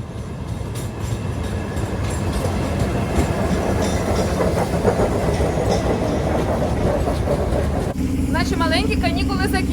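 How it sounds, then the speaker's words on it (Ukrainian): The first early-morning electric commuter train pulls out of Stavne, a mountain village in Zakarpattia, bound for Uzhhorod: a loud, steady rolling rumble with rail clatter, and a voice or tonal call briefly rising near the end. "Перша електричка, яка вирушає зі ставного до Ужгорода."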